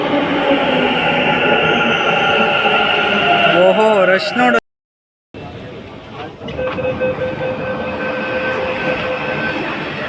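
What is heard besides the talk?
metro train arriving and running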